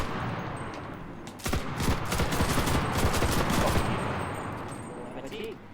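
Gunfire in the battle royale video game Cuisine Royale, a dense burst of rapid automatic shots swelling in the middle and fading out, heard alone over game ambience.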